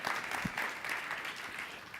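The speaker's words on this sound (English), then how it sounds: "they're worth a round of applause." Audience applause at a healthcare leadership luncheon honoring women in medicine and pharma, a steady, moderately loud wash of clapping across the whole short stretch, with no voices over it.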